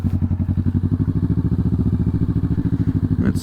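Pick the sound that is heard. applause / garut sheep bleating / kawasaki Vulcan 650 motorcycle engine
kawasaki Vulcan 650 motorcycle engine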